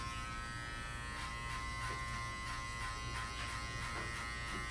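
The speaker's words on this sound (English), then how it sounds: "Starting off with my clipper all the way open" An electric hair clipper buzzes steadily during a skin fade haircut, a constant close motor hum with slight changes as it moves through the hair.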